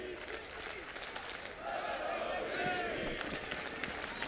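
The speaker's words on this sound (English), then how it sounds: "Look at this crowd." Large esports arena crowd at a CS:GO Major quarter-final match, a broad roar of cheering and applause swelling midway and sustained, with commentators' voices faintly mixed in.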